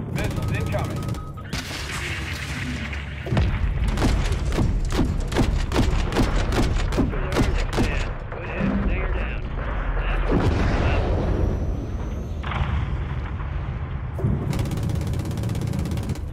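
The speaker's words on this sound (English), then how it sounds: "Missiles incoming." Incoming missiles explode in a Call of Duty Modern Warfare 3 battle, producing a rapid volley of loud booms and gunfire bursts that stop and resume in waves, with heavy rumble throughout.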